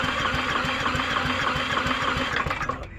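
A small engine runs on after starting, chugging in a fast, even rhythm of close, loud pulses that thin out and drop away near the end.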